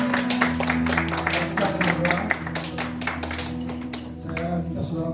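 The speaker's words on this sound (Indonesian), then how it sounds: "Tepuk tangan dulu, saudara." A church congregation claps together in a steady burst of applause, loud and close, over a sustained organ-like musical tone.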